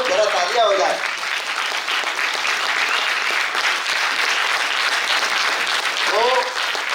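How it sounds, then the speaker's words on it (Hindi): Steady applause from a theatre audience at a Hindi stage play, clapping continuously for about seven seconds, with brief speech at the very start and again near the end. "हाँ, तो जरा तालियां हो जाए।"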